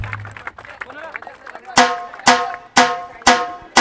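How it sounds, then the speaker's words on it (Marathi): After some talking, an audience at a cricket tournament prize ceremony claps in unison for the umpires. Five loud, evenly spaced rhythmic claps ring out close together. "फक्त टाळ्या वाजवायच्या आहेत"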